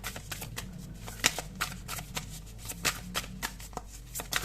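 Tarot cards being handled and drawn from a deck, with soft papery flicks and slaps at an irregular pace, each one brief and close.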